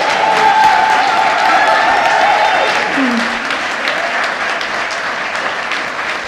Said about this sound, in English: A round of applause and cheers for Lynn Stewart.